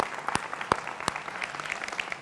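A studio audience at a televised political debate show claps, a scattered burst of applause with a few sharp, distinct hand claps standing out over a softer background of clapping.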